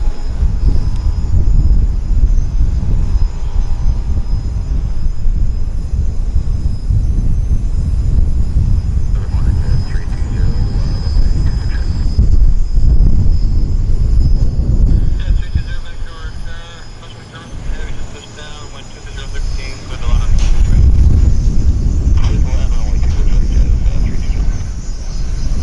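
An Air North Boeing 737-800 on its first flight makes its takeoff roll at Vancouver Airport, a broad roaring engine rumble building and swelling at a distance, with a person talking over it.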